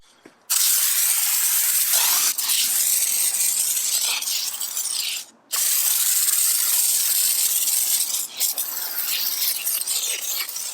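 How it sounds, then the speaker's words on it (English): Foam sprayer laying wheel cleaner onto a dirty car wheel, a loud continuous close hiss with one brief break midway, alone and without talk. "We're going to foam apply it."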